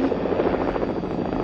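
A helicopter's rotor and engine thrum steadily and loudly, close and continuous with no talk, in the 1975 film Airport 1975 during a mid-air pilot transfer.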